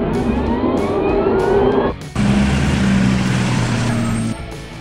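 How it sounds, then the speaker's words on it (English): A hybrid car drives past loudly, a steady engine and road drone that cuts out briefly before resuming at a similar level, with a tonal hum throughout. "Hybrid car."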